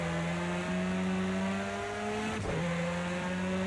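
An Audi S1 EKS RX race car lapping Bathurst in Project Cars 2, its engine holding a loud steady drone, then dropping sharply in pitch on a downshift before pulling up again.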